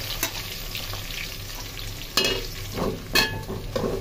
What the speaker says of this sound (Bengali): পেঁয়াজটা ভাজা ভাজা হোক।